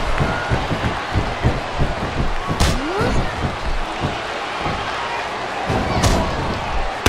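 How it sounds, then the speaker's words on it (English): Wrestling slams in WWE SmackDown vs Raw 2010 with a women's match, repeated thuds and impacts over crowd noise, with two sharper hits standing out and commentary mostly in the gaps. "Whoa, a thunderous slam"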